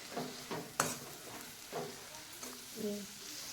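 Tomato and salt being stirred into a green turmeric curry cooking in a pan, a faint, soft sizzle with intermittent scraping strokes of a spoon, fairly quiet and close.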